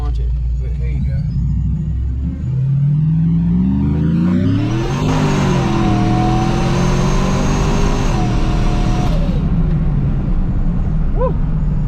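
A supercharged Chevrolet Trailblazer on drag radials accelerates hard, its rising engine and blower whine climbing steadily over several seconds, loud and close, then easing off with the engine rumble continuing and people talking throughout.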